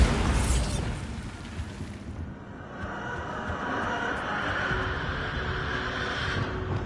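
A Bombarda spell blast in Hogwarts Legacy, a loud broadband burst that drops into a sustained rumbling roar with a rising hiss layered over it.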